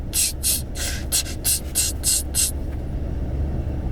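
Perfume being sprayed from a bottle: eight quick, crisp hissing bursts in an uneven rhythm, close and fairly loud, over a low rumbling road background, followed by a quieter stretch.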